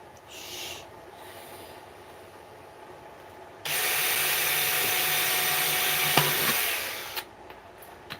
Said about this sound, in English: I'm just going to drill holes.